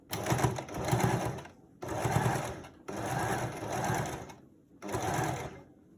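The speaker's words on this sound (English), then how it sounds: "Right when it gets thick, that's where we do our back stitch, all the way." Sewing machine running in short bursts while back stitching a fabric face mask, a steady close whirring hum in four runs of about one to two seconds each, with brief silent gaps between them.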